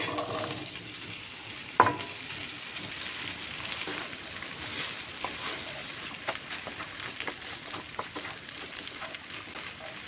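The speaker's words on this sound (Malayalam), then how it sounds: "എണ്ണയൊന്ന് ചൂടായി വന്നോട്ടെ അപ്പം നമ്മൾക്ക് ഈ വെണ്ടയ്ക്കതിലോട്ട് ഇട്ട് കൊടുക്കാം" Okra fries in hot oil in a pan, giving a steady, dense sizzle with occasional stirring scrapes and one sharp clack near the start, and no talking.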